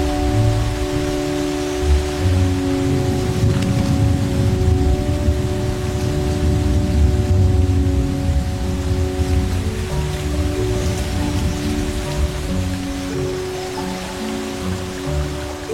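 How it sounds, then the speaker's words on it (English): Heavy rain showers pour down in a steady, dense hiss over open savanna, with a constant low rumble underneath and no voices. "Three or 4 months of hard showers, humidity, thunderstorms, and millions upon millions of litres of rain."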